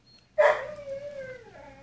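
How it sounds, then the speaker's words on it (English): A dog lets out a single howl that starts sharply and trails off in a long, wavering tone, heard at moderate distance in a quiet room. "That's the dog."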